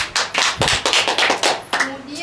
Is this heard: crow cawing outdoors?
no